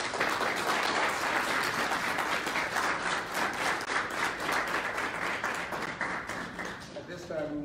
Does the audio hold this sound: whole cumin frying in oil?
no